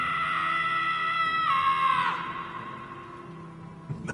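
A character in the video game Guardians of the Galaxy lets out a long, loud scream that rises and then trails off into a fading groan, followed by a faint clatter.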